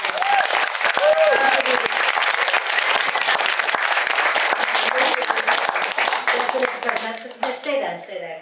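A live audience gives someone a loud, continuous round of applause, with dense close clapping and a few voices calling out over it, tapering off as a speaker briefly talks near the end.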